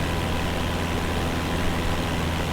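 A Cessna 172 engine heard from inside the cabin on a windy flight over Reykjavík, with the throttle increased, giving a steady loud droning roar with a low pulsing hum and no talk.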